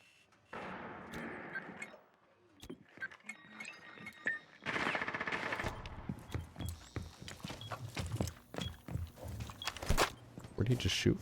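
Gunfire in a competitive video game, a mix of sharp shots and rapid bursts alongside clattering footsteps, growing denser in the second half, with players talking over it.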